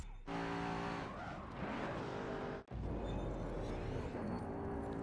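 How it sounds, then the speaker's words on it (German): Tires locking and skidding on a car in Forza Motorsport 7, a loud, continuous screech over engine roar with a brief dropout midway before the skid resumes. "Oh, die Reifen blockiert."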